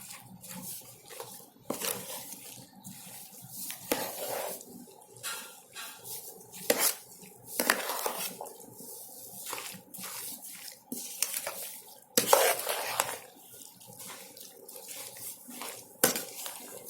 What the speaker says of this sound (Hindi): इसके बाद इसको ना अच्छी तरह मिक्स कर लें